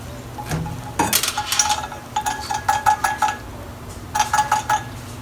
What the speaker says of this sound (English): I pour it through a strainer.